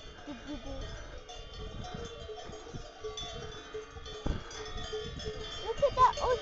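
Cowbells on cows grazing in a Dolomites mountain pasture clank irregularly at varying distances, with a louder cluster of clangs near the end and soft, faint voices underneath.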